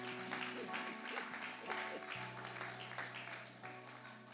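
A church congregation applauds to acclaim the Lord, producing a dense, sustained wash of clapping from many hands that fills the room alongside a low hum and some faint voices.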